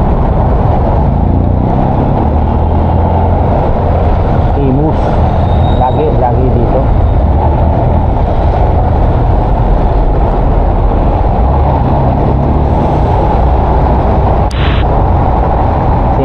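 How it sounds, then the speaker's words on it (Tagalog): Dense road traffic in Imus heard from a moving motorcycle: a constant loud rumble of cars, trucks and buses with engine drone and wind, while a rider speaks briefly over it. "Kanina pa yung traffic na yan."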